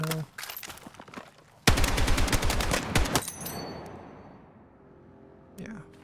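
Rapid automatic gunfire from a weapon in the video game Battlefield 6, a loud sustained burst of closely spaced shots followed by a decaying echo, with a short second burst at the end and brief talk near the start.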